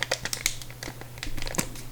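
Crinkly plastic wrapper of a card booster pack being handled and pulled at, with sharp crackles and rustles in quick irregular bursts, close by.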